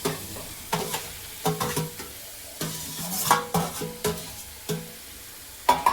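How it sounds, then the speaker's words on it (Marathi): Mutton pieces being stirred into masala in a pan, repeated scraping stir strokes at an uneven rhythm over a low sizzle, close and alone. "मस्त एकत्र मिक्स करून घ्यायचंय सर्व मसाला आणि पीस"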